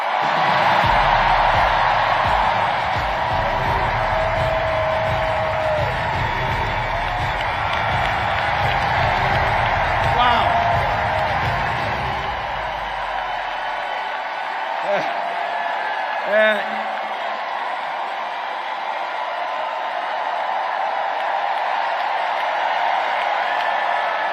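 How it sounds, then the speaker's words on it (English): A big political rally crowd in Philadelphia cheers and applauds loudly and steadily for about thirteen seconds, then drops away suddenly to a quieter room with a few scattered claps and shouts. "And here the crowd is excited about a positive message."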